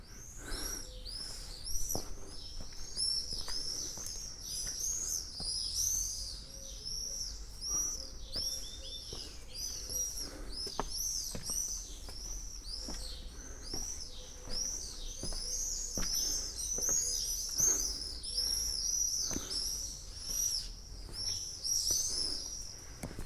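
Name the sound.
starlings calling in a flock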